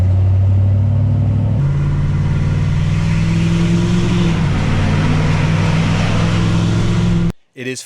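A 2024 Ford 6.7 Powerstroke diesel pickup tuned to 587 wheel horsepower drones loudly and steadily at a rumbling idle, its pitch rising slightly midway before cutting off abruptly at the end.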